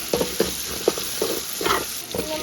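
Onions with potato and other vegetables sautéing in a pan for Yippee noodles, a spatula tapping and scraping in a regular rhythm over a steady hiss of sizzling oil, close and moderately loud, no talking.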